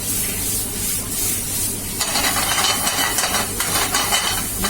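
Paneer (chena) being stirred in a hot pan, a steady sizzle that swells into louder frying hiss with scraping stir strokes partway through, close and continuous.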